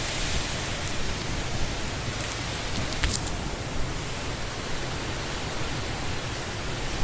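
Typhoon wind and heavy rain roar as a steady, dense broadband wash with no break, close and loud throughout, with a brief sharper gust-like burst near the middle.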